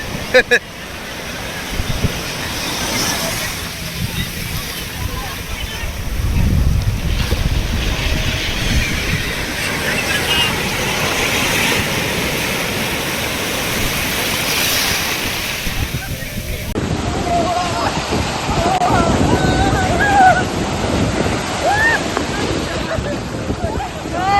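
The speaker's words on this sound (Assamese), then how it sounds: "সাগৰৰ ঢৌ আৰু এইখন দেখিছে আপোনালোকে" Sea waves at a Goa beach, a continuous loud roar of surf and wind buffeting close by, with a voice speaking over the churning water throughout.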